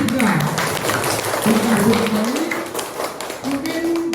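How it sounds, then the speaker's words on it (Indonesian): Participants at a teacher training session in Ponorogo clap for three people, a lively patter of hands heard under overlapping voices and chatter close by. "Tepuk tangan untuk mereka bertiga."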